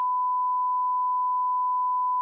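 A steady censor bleep tone, loud and continuous for about two seconds, standing alone with no speech beneath it.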